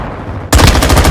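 Gunfire in Modern Warfare II (2022) Domination multiplayer: after a brief quieter moment, a loud, close burst of rapid automatic shots erupts and continues steadily to the end.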